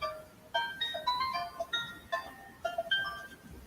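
A phone ringtone plays a melody, a chirpy run of bright electronic notes in short repeated phrases, fairly clear with no talk over it.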